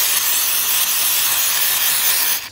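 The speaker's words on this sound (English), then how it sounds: "Give it a good chunk, spray some on the inside." Mass airflow sensor cleaner sprays in a loud, continuous hiss into the throttle body of a Dodge Caravan, one sustained burst that cuts off near the end.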